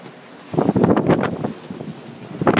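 Gusting wind buffets the microphone while building waves slosh and surge around a rocking sailboat at sea between the Azores and Fuerteventura, rising and easing over a couple of seconds.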